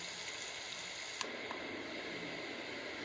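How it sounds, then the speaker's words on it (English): On its white noise setting, a Homedics SoundSpa machine hisses with a constant broadband rush at modest volume; a click about a third of the way in marks a slight shift in the tone, then the even hiss carries on with no talking. "And we have White Noise."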